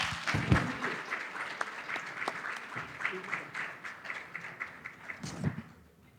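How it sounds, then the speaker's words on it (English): Gala audience at a medical association banquet applauds a speaker coming up, dense clapping that is loud at first and gradually thins and fades out, with a couple of thumps near the end. "let us welcome her with a big round of applause"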